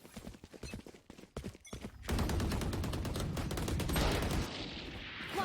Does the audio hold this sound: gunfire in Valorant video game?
yes